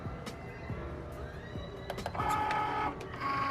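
A Cricut cutting machine starts up and works through glitter heat-transfer vinyl, giving a mechanical whir with clicks and small motor movements at close range and no talking.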